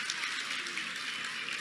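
A round of applause from a crowd, a steady dense wash of clapping that holds at an even level for the whole stretch with no voices over it.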